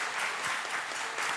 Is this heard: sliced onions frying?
no